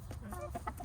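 Backyard chickens clucking close by, a few short, irregular clucks and murmurs over a low steady background.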